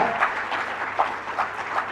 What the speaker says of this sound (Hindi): तालियों की गूंज आज के इस शुभ दिवस पर